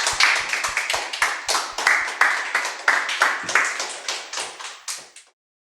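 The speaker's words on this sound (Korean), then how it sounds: "이명호 선생님, 뜨거운 박수와 함께." An audience claps for a customs-law lecturer walking up at an exam-prep briefing session, starting in a dense rapid burst and slowly thinning into scattered, fading claps.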